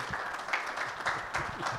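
Applause from the audience at a trade school graduation ceremony, fairly faint and brief, with a few scattered claps standing out from a soft patter.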